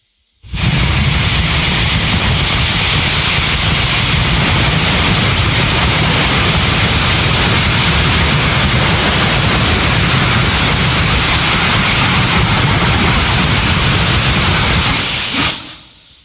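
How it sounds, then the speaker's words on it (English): A SpaceX Raptor 3 rocket engine fires at a water-cooled steel plate, a loud, dense, roaring hiss that starts abruptly, holds steady for about fifteen seconds, then cuts off. "Raptor engine version 3 looks so clean with less pipes, firing at the water-cooled steel plate"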